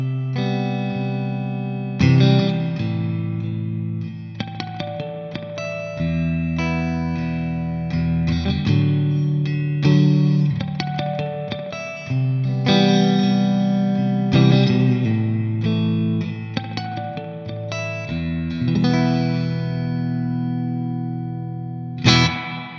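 An electric guitar plays chords and single notes through an analog spring reverb pedal, each strum trailing a splashy, slightly metallic echo and decaying tail, with slight noise.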